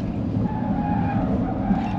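A Lotus Eletre 900 bhp electric SUV on a track gives a brief, continuous tyre skid, a loud close smeared squeal that holds steady with no engine roar and no talk.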